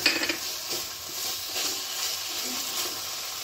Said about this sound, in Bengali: খুব ভালোভাবে কষিয়ে নিলাম